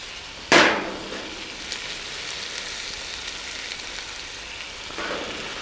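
Spices sizzle and roast in a hot Dutch oven for a currywurst stew, a steady frying crackle, with a sudden loud hiss as they hit the pot and a softer surge near the end.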